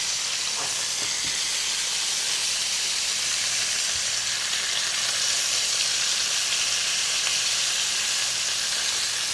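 A single jerk-seasoned pork chop sizzling in a hot pan on a stovetop burner, a dense steady hiss and crackle throughout, close and loud, with no talking.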